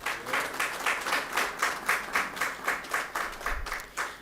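An audience applauds Thea Lafond, with steady group clapping in rhythmic surges at moderate volume, heard at some distance with no talk over it.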